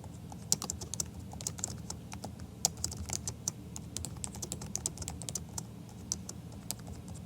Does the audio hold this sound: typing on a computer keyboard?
yes